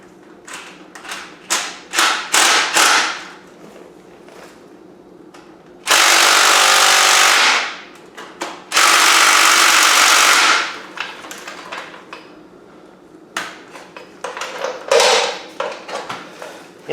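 A power tool on a car's starter bolts makes bursts of buzzing, with two long sustained runs in the middle. Between them come clanks and short tool noises, close by in a garage.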